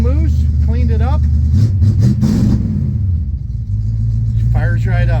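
The engine of an old Ford left sitting for 29 years runs, a loud, close, steady low rumble with a brief rev in the middle, while someone talks over it.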